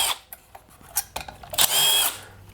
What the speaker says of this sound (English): 8mm socket will get your coil off